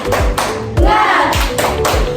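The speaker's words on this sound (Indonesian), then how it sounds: "tepuk semangat dulu" A sixth-grade elementary class performs a rhythmic spirit clap during a science lesson, loud patterned hand claps in quick groups with voices chanting along.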